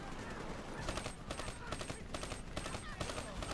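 Rapid bursts of gunfire from a video game crackle in a quick repeating rhythm of roughly evenly spaced shots, moderately loud and steady across the stretch, with a sharp louder hit at the very end.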